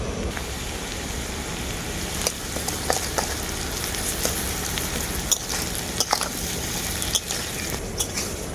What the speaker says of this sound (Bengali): আদাটাকে আমি খুব ভালো করে ভেজে নিয়েছি